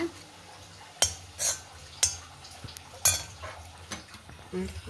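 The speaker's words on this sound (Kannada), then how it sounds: "ತೆಂಗಿನಕಾಯಿ ಸ್ವಲ್ಪ ಫ್ರೈ ಮಾಡ್ಕೊಂಬ, ರೋಸ್ಟ್ ಮಾಡ್ಕೊಂಬ" Grated coconut being dry-roasted in a pan for a Kundapura-style raw mango curry, with a spatula scraping and clinking against the metal in sharp strokes about once a second over a low background.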